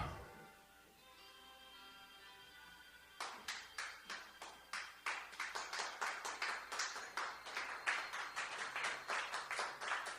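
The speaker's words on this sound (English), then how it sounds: "Thanks for applauding, Randy." After a quiet stretch with faint tonal hum, hand claps start abruptly and continue in a steady, fairly regular rhythm of sharp individual claps, close and a little uneven, like a small talk-show audience applauding.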